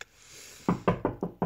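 Five sharp knocks on a door follow a quiet pause, close and distinct, rapping in a quick, fairly even rhythm with no voices.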